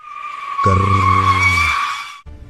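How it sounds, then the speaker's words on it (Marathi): A speeding car brakes hard with a long, loud, high tyre screech that holds for over a second and a half before cutting off abruptly, a close sound effect. "त्याने जोरात ब्रेक दाबला."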